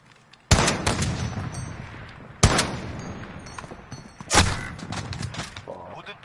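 Warzone gunfire, three heavy close shots spaced about two seconds apart, each a sharp blast with a rumbling tail, under quieter game ambience.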